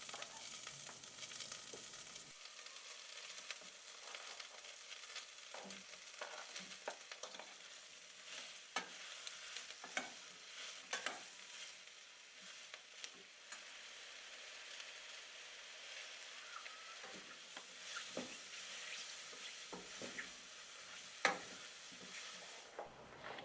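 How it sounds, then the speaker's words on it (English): Onions, garlic, ginger, mushrooms and cayenne pepper fry gently in oil in a pan, giving a steady soft sizzle with intermittent scraping stirs and light clinks throughout, with no voices. "Add the onions, garlic, ginger, mushrooms and cayenne pepper and fry gently for 10 minutes."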